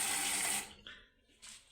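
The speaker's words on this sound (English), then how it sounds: "This is a dual function tap. This is one function, comes out as a spray." A dual-function laboratory tap sprays water into a sink for about half a second with a loud, hissing rush, then cuts off, followed by two brief, fainter spurts.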